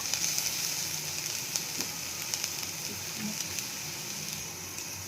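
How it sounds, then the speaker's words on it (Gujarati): Carrots, onions and chillies sauté in a pan with a soft, continuous sizzle, broken by scattered small pops and crackles, fairly quiet and close, with no speech. "2 મિનિટ આ બધું સાતળવા દેશું."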